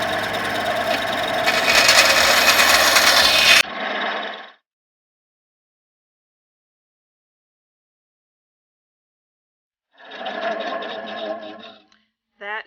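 Powered blade, likely a small scroll or band saw, cutting small ornate wooden detail pieces for furniture; a loud, steady cutting whine for several seconds, then silence, then a shorter second cut near the end.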